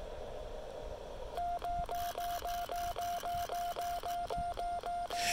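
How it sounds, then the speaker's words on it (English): An LDG Z-100 Plus automatic antenna tuner, paired with a Yaesu FT-817ND radio at an outdoor park station, tunes with a rapid, regular train of about a dozen relay clicks, each pulsing over a steady beeping tone, fairly quiet. "You know, this is a pretty quiet tuner."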